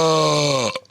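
A single long, loud, close burp, deep and droning, holds steady for most of a second before cutting off abruptly.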